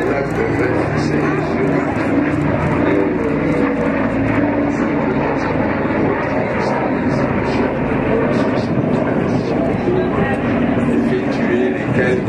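Loud, continuous propeller-engine drone of a Lockheed Super Constellation airliner in a flying display at Le Bourget 2013, with a steady rumbling roar and voices faintly mixed underneath.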